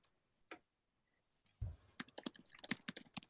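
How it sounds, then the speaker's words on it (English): Quick bursts of people typing on keyboards during a film quiz, with one early isolated keystroke and then a rapid, uneven flurry of clicks close by. "I can hear people typing furiously"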